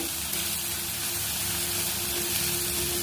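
Onion, green chilli and salt sizzling steadily in a hot pan while being stirred, a continuous close frying hiss with a faint hum underneath and no talking.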